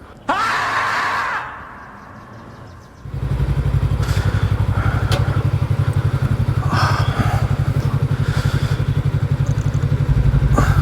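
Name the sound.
motorcycle engine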